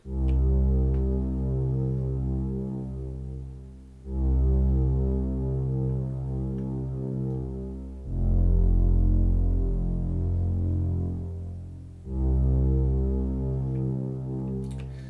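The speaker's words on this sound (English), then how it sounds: "It's JP8 strings 3, and it's playing this rather nice deep sound." A deep, droning Roland JD-Xi 'JP8 strings 3' synth string pad, shifted down an octave, holds long, thick chords that change every few seconds, loud and steady with no voices.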